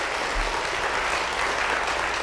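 Church congregation applauding in a steady, dense wash of clapping that holds evenly from start to finish, with no voices rising above it.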